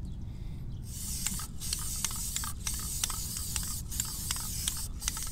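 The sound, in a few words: aerosol spray can spraying SCM black self-etching primer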